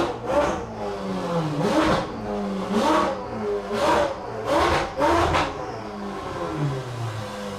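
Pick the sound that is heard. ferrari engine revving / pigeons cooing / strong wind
ferrari engine revving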